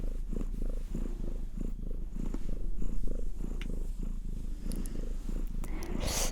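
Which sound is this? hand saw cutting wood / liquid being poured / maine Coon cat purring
maine Coon cat purring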